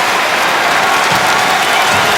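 Hockey crowd on its feet in the final minute of a Toronto Maple Leafs versus Columbus Blue Jackets game, a dense, loud roar of cheering and applause filling the arena continuously.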